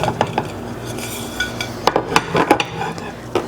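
Plates clink and knock together as a quesadilla is flipped from one plate onto another, with several sharp ceramic taps clustered midway, close and fairly loud.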